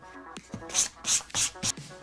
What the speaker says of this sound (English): I'll probably start with 220 grit, sanding in one direction